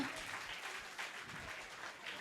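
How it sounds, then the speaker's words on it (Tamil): Applause from an audience at a Vacation Bible School program, a short steady burst of clapping heard fairly faint and even throughout, without talk over it. "கைத்தட்டல் கொடுத்துடலாமா?"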